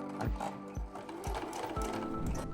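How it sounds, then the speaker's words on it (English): A sewing machine stitches fabric layers with a zipper between them, running at a steady rhythmic chug with regular thumps about twice a second, fairly loud and close. "I am going to sew these layers together with the zipper in the middle with about 1/4 inch seam allowance"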